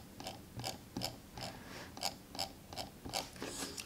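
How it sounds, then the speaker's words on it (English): Scroll wheel of a Razer Basilisk Mercury mouse turned with resistance, giving a rapid, regular ratcheting of crisp close clicks, about eight per second in bursts, alone and quiet. "the mouse gets really tracky and you can hear the wheel trying to rotate"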